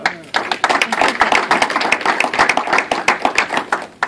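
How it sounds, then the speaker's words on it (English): A crowd claps steadily and enthusiastically, a dense patter of hands that continues for several seconds without any voices. "Round of applause for Jim."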